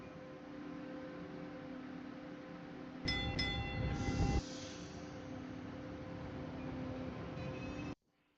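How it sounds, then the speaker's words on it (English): A train runs in a video game with a steady, even rumble throughout, broken midway by a louder, brighter clattering burst before the rumble settles again. "The destination of this train is Boston College."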